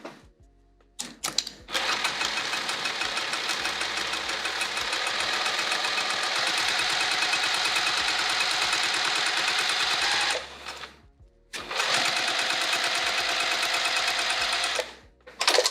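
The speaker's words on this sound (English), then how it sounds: "let's top stitch right across there" Sewing machine top stitching across a vinyl bag in two long, steady runs of rapid needle clatter separated by a brief pause, close and alone.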